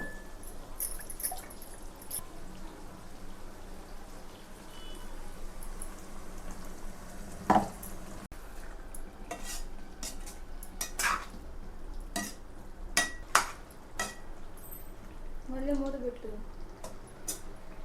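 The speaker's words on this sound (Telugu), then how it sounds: "మనం గరిటె పెట్టుకొని ఇలాగా కలుపుకొని" A ladle stirs masala for stuffed brinjal curry in a pan, with scraping and clinking strokes and occasional louder knocks over a low background hiss; no one talks.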